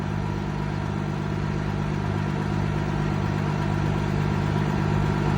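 An old cab-over semi truck idles steadily, a continuous low rumbling drone with a faint mechanical clatter, close and even throughout with no voices.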